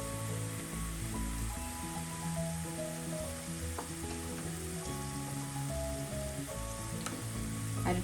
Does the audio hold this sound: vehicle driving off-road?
no